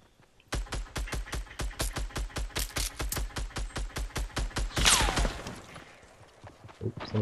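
Rapid gunfire from a video game, a long rhythmic string of evenly spaced sharp shots that sound close and loud, with a brief burst of other effects near the end.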